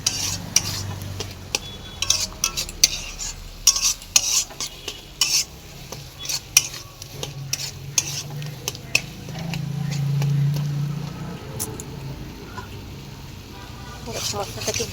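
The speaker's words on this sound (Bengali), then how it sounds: "মশলাটাকে ভেজে নিলাম।" Masala spice paste fries in a pan while a spatula stirs it, irregular scraping clinks over a low sizzle, with a voice talking over parts of it.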